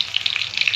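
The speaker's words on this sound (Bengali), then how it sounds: "তেজপাতা দিলাম, গোটা জিরে দিলাম" Bay leaf and whole cumin hitting hot oil, a brief burst of bright crackling sizzle, close and fairly loud.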